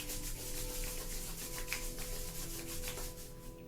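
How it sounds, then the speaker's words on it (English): Palms and soles of the feet rubbed together during a Kundalini yoga session, giving a steady close swishing friction that runs unbroken and alone for the whole stretch. "Rubbing the palms together and the soles of the feet together."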